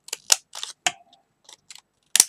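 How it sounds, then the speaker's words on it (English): Sharp snips of craft scissors with oddly shaped blades cutting down through paper or card, a few crisp bursts spread unevenly with quiet gaps between, close and fairly quiet. "all I do is just cut that down there"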